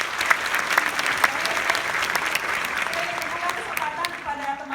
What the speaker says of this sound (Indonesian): ini kita ambil tepuk tangan bersama